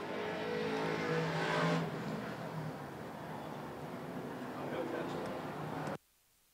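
Race cars roar around a slippery track at a spectator race, a steady, distant engine drone with a louder swell early on, under continuous commentary, before cutting off abruptly.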